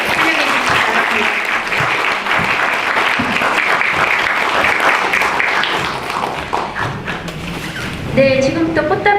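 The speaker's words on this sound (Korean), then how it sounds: "큰 박수로 환영해 주시기 바랍니다" Sustained, dense applause from a large forum audience welcoming a speaker, steady and loud for several seconds, fading slightly before music and voices begin at the end.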